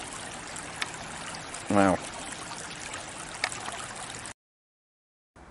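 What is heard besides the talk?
brook water flowing in forest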